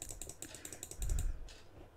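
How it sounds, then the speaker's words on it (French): Rapid clicking of a computer mouse, a run of sharp close taps with a brief louder bump midway, repeated clicks in quick irregular rhythm with no talking. "Je te jure que je clique"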